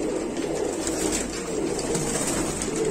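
Show pigeons in a mixed flock of Madrasi, Punjabi and Allahabadi breeds give soft, repeated cooing, fairly faint, over a steady background hiss.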